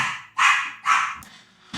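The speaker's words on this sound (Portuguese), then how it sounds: "Os meus cachorros invadiram aqui o escritório" Dogs bark in a home office, three or four sharp, close barks in quick succession with short pauses between.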